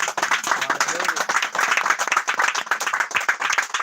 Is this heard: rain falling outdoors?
no